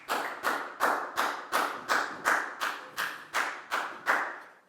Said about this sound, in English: a big round of applause for Preo and Pat too